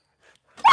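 A white dog gives a faint whimper, then breaks into a loud, close bark at the end of the short moment, alone without talk.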